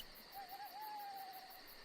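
An owl gives a single drawn-out hoot, a soft wavering call held for about a second over a constant chirring insect background at night.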